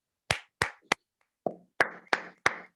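A few separate claps ring out close by with pauses between them, sounding more like a lone pair of hands than a full audience.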